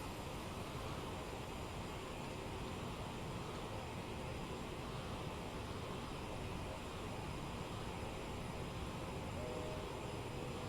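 Jet engine roar from an Aerosoft CRJ 700 cruising at Mach 0.78 in Microsoft Flight Simulator 2020, a steady, even, broadband cabin drone that holds unchanged throughout with no talking.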